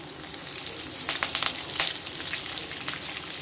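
Curry leaves go into hot oil for lemon rice and sizzle close up. A steady frying hiss carries several sharp crackling bursts, with no voices.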